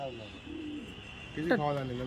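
Fulshira pigeons give soft, low cooing calls in short bursts, one at the start and a fuller, louder run near the end, over steady background hum.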